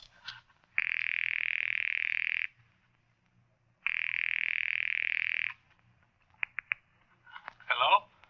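An old-time radio drama telephone effect produces two long, steady buzzing rings separated by a pause, followed by brief clicks and a short burst of voice.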